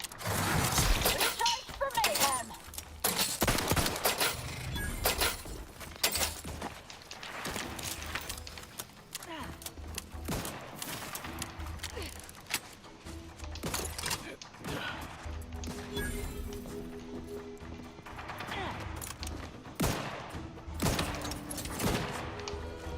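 Gunfire from a powerful, slow-reloading gun in The Outer Worlds, several loud sharp shots and crashing impacts spaced apart, with shattering debris and mechanical reload clatter between them.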